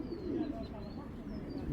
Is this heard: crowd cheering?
no